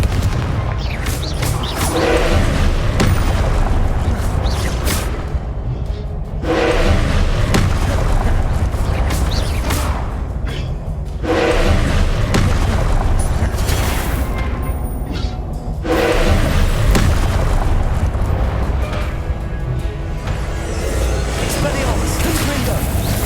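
Repeated Confringo spell blasts from the Hogwarts Legacy video game, loud booming bursts recurring in waves roughly every five seconds over a continuous dense rumble, with a voice calling out alongside.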